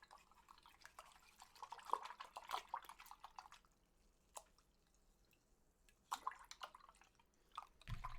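Tap water at a sink trickling and dripping softly, with scattered wet plinks and splashes, faint and close, with quiet gaps between drips and no speech.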